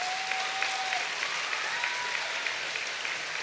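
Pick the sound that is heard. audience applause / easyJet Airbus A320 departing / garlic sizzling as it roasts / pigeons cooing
audience applause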